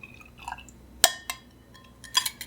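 Milk is poured into a clear glass of oat chai blend, with a soft liquid trickle punctuated by sharp glass clinks and small splashes, close and moderately loud.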